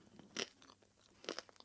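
Crisp crunches of teeth biting into the crispy, fragrant skin of a taiyaki, starting from the tail, two loud close bites with smaller crackles and chewing between them, no talking.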